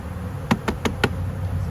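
Honey bees from a large swarm buzz softly around frames as it is transferred into a new hive, broken by four sharp, evenly spaced taps as a frame is knocked.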